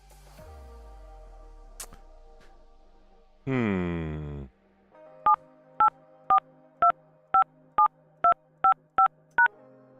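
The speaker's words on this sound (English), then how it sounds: "Enter last name and pound key." Telephone keypad tones entering a last name into an automated phone directory: a quick series of about nine short, evenly spaced DTMF beeps, preceded by a brief warbling tone and faint background sounds.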